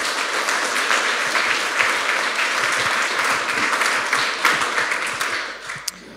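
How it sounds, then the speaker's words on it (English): Sustained, dense applause from a conference audience welcoming a speaker onstage, loud and steady throughout before thinning out near the end, with no talking over it. "Please welcome with a hot applause"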